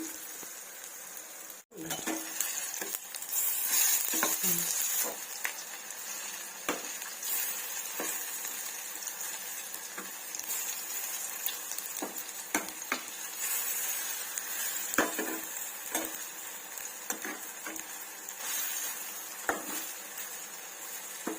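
Lentil fritters (mah bor) fry over lowered heat in a wok, giving a steady sizzle broken by repeated scrapes and clicks of stirring, one sharp clatter early on, no talk.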